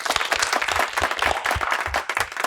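An audience at an Independence Day special program bursts into applause, many hands clapping loudly and unevenly in a lively, close crowd with individual claps standing out.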